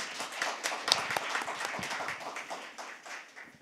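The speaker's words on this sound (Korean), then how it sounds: "박수로 맞이해 주시면 좋겠습니다" An audience at a university expert panel discussion applauds to welcome a speaker, steady dense clapping from many hands that fades slightly toward the end, heard from a distance in a hall.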